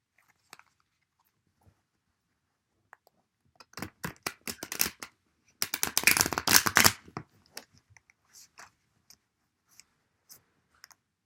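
Thick matte cards being shuffled nearby: scattered soft clicks, then two dense bursts of riffling flutter, followed by a few light taps and clicks.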